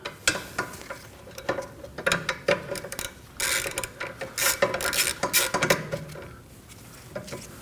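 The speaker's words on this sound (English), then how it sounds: "Now we're gonna remove the caliper bracket, and for that we're gonna use a 12mm socket." A ratchet with a 12mm socket loosens the caliper bracket bolts on a Kia Optima during rear brake work, giving rapid bursts of metallic clicking at close range, with short pauses and a few clanks between strokes.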